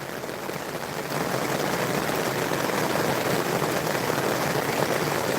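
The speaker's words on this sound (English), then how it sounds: "That's raining hard enough." Heavy rain falls at night, a dense, steady hiss that grows a little louder after the first second and continues evenly without any voices.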